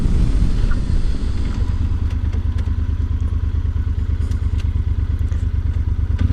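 Yamaha Super Ténéré motorcycle braking hard from highway speed, a steady loud low engine and road rumble with clattering bumps throughout, recorded close on the bike.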